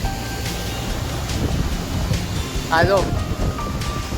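Sea wind buffets the microphone with a low, rumbling roar on a coastal hilltop, while a person speaks briefly over it.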